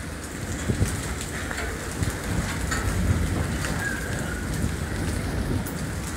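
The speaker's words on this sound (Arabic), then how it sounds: "كما نرى أصوات للرعد والبرق في سماء أسوان" Heavy rain pours steadily in Aswan during a thunderstorm, with thunder rumbling low underneath and no talking.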